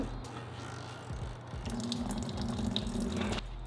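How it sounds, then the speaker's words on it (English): Water trickling and draining out of a Mercruiser outdrive during maintenance, a steady close pouring and splashing that swells slightly louder and choppier after the first second and a half, then cuts off near the end. "you're going to have a little water come out as you heard in that scene there"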